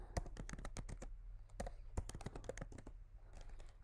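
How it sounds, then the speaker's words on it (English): Rapid, close keystrokes on a Mac keyboard as a terminal command is typed, a dense run of soft clicking taps at low volume over faint background noise. "when you type the brew update command in your terminal"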